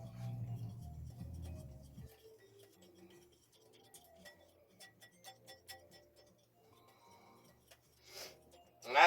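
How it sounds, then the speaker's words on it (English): Dry baking mix is whisked in a bowl, giving faint, quick clinking and ticking strokes in an uneven rhythm at close range, quiet throughout with a brief louder rustle near the end. "we're going to take our dry mix, we're going to whisk it, just like this."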